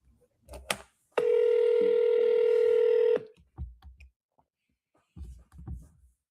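A telephone tone from an auto-dialer sounds as a single sustained electronic beep of about two seconds, flanked by brief clicks and short bursts of muffled voice.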